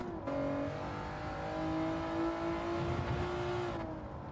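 An engine in the Gran Turismo racing game holds third gear through a licence test, its tone climbing as the car accelerates, steady and loud from start to finish, with no speech.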